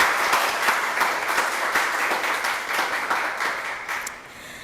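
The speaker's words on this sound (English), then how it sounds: "I think you owe yourselves a hearty round of applause." A large audience applauds heartily at an awards evening, steady dense clapping throughout that tapers slightly near the end, with no talk over it.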